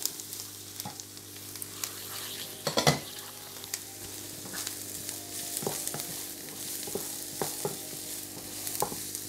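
Chorizo frying in a pan with pasta ingredients, a continuous soft sizzle with scattered stirring clicks and one louder scrape early on, close but fairly quiet, no talking.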